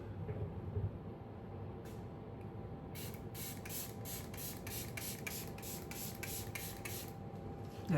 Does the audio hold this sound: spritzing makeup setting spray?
yes